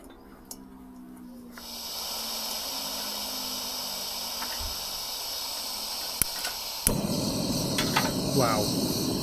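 A Trangia Storm gas burner gives a steady, airy hiss that starts about a second and a half in and continues throughout, with a few small clicks and a fuller, rougher roar in the last couple of seconds.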